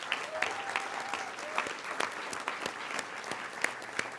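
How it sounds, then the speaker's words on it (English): Scattered, moderate applause from a crowd, a steady patter of clapping with individual claps standing out, no voices over it. "I just want to give her a round of applause for being here with us"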